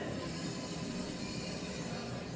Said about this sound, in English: now let's hop on a train to meet Maurus Lauber